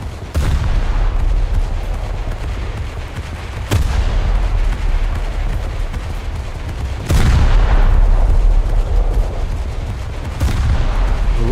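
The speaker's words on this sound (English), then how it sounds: "Luckily that bomb wasn't aimed for me" Heavy booms from a naval video game with British frigates, including a bomb exploding: several loud, deep blasts, each followed by a long rumbling roar, with constant battle noise between them and no talking.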